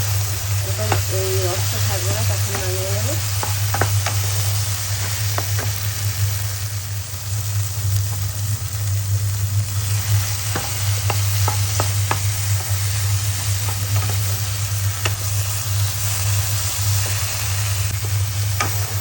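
Coconut frying and being stirred in a pan for a Bengali prawn malai curry, giving a steady close sizzle throughout with scattered scraping stir clicks, over a constant low hum.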